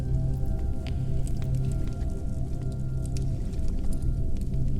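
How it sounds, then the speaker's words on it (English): Soft, wet slaps and squishes of water against a small boat drifting down a winding flooded passageway, a gentle, irregular lapping rhythm over a low murmur. "over the rhythmic lapping of water"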